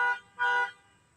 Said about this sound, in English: Somebody honking their horn in the middle of the day when I'm trying to talk in my new podcast